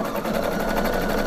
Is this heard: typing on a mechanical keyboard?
no